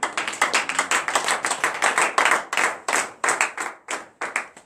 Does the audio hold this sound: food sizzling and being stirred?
no